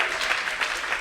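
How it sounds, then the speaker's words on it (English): An audience at a research slam at Lawrence Livermore National Lab claps together in a steady, dense burst of applause filling the room, with no voices over it. "I was wondering if that was going to be an applause line"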